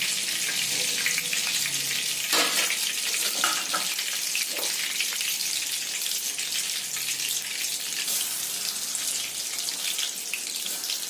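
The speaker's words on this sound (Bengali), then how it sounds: "বাকিগুলো আমি এইভাবে ভেজে নেব।" Soya chunks frying in oil in a pan, a continuous bright sizzle and crackle with occasional stirring and clinking, close up and steady throughout, no talking.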